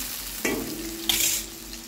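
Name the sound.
potatoes frying on high gas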